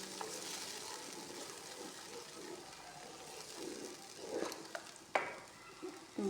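Masala frying in hot ghee for aloo kofta curry gives a soft, steady sizzle with occasional scraping stirs and a couple of sharper clinks near the end, quiet and close.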